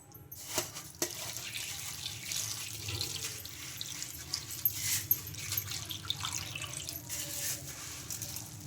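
Water runs from a tap into a bowl of puffed rice in a steady, close stream with small splashes and shifts in flow, no voices.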